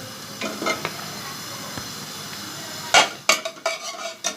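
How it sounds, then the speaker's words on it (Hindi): Okra frying lightly in ghee with salt and turmeric, a soft continuous sizzle with scattered stirring scrapes, then a burst of louder clattering spoon strokes against the pan near the end, close by with no talking. "भिंडी को हम हल्का सा फ्राई कर लेंगे।"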